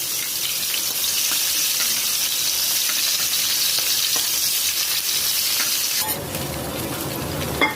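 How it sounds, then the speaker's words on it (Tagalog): Onions sauté in a pan for a bangus Bicol Express, a steady close sizzle with light stirring for several seconds, then a sudden shift near the end to a softer, duller background. "hinalang ko na po yung sibuyas"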